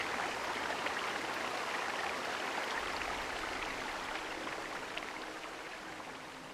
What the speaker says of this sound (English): You hear running water and see a small stream that carves its way into the mountain.